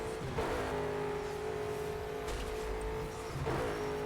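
A car engine revving hard in Burnout Paradise, a steady aggressive drone with rising surges and brief tire noise, loud and close with no talk.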